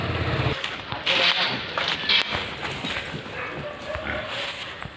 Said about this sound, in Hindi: देख सकते हो अंदर सुअर है